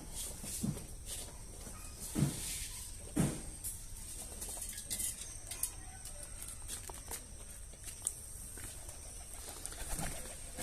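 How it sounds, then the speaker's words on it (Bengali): Pigeons feeding on paddy grain coo and murmur nearby, with soft wing flutters and scattered pecking sounds over a quiet background; no one speaks. "সব কবুতর একসাথে নামে খায়"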